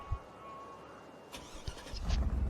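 A truck engine in the SnowRunner off-road driving game cranks and catches over about a second, rising from near silence into a low, building rumble at the end.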